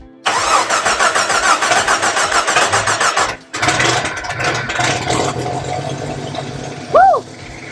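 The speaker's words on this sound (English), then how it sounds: "Craig and I finally finished the prep in the engine, and we're gonna see if she runs" A car engine cranks and fires after engine prep work, a loud steady churning run for several seconds, a brief cutout, then rougher uneven running with a sharp whoop-like burst near the end.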